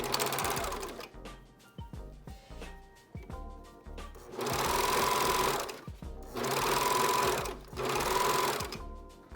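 A serger stitches a curved seam on face mask fabric in three loud, steady bursts of rapid mechanical whirring, separated by short pauses and small handling clicks, with no talking.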